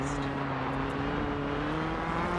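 Peugeot rally car engine in the Dirt 4 video game on a snow stage drones loudly at high revs, a steady, close buzzing whine holding nearly constant pitch with no break.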